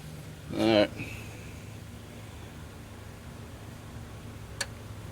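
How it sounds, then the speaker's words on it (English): A starter relay on a 1993 Chevrolet Silverado gives a faint, brief click in a quiet setting, with a short louder burst of noise just before it. "heard that damn relay click"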